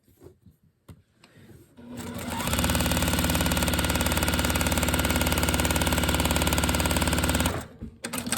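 A sewing machine running steadily at speed while stitching the seams of a quilt block, a dense continuous whir lasting about five seconds after a few soft starting clicks, then stopping, close and without talk.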